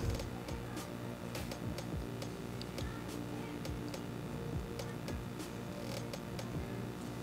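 A sewing machine stitches a folded 1.5-inch back waistband strip onto a blouse, running as a steady, close mechanical rattle with continuous rapid ticking throughout.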